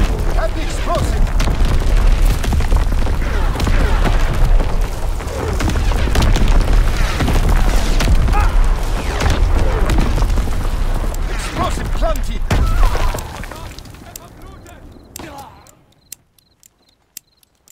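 Artillery battery explosions from a video game killstreak land as dense, loud, repeated booms and blasts with a rolling rumble. They go on for about thirteen seconds, then fade into quiet with a few scattered clicks.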